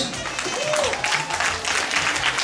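Wedding guests applaud the dancing couple at a crowded celebration, a dense wash of clapping that runs steadily throughout with crowd noise and some talking mixed in.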